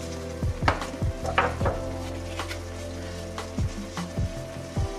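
Tomato paste being stirred into sizzling vegan enchilada filling: a soft frying hiss runs underneath while a spoon scrapes and clatters against the pan in quick, irregular strokes, close and fairly loud, with no speech.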